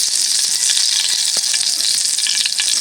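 Bulinaw fish omelette (torta) frying in hot oil, a steady dense crackling sizzle with scattered pops and light stirring clicks, close and continuous throughout with no voices.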